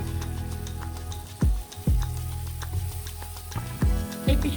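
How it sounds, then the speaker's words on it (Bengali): Sarputi fish pieces frying in a pan, a steady close sizzle with several sharp pops and crackles spread through it, no voices. "মাছটা আমি আর একবার উল্টিয়ে দিচ্ছি পিসো আমি ওইভাবে করে ভেজে নেব"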